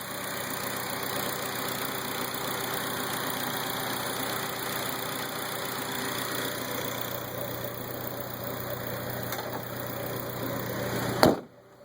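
A 2002 Acura RSX Type-S with polyurethane aftermarket motor mounts idles steadily close by, an even, smooth engine hum that holds for about eleven seconds before a brief clunk and sudden stop.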